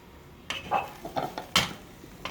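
Plates and cutlery handled and set out on a kitchen counter, a handful of separate clinks and knocks spread unevenly, fairly close and moderately quiet.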